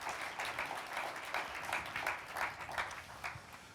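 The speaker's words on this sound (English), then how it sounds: "I'll just ask you to give me a big round of applause welcoming Kati" Applause from a book talk audience welcoming an author, a soft, steady wash of clapping heard from a distance and fairly faint throughout.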